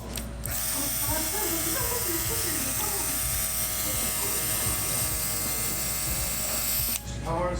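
Cordless barber airbrush spraying continuously, a steady close electric buzz and hiss running for about seven seconds before cutting off, with a person talking over it.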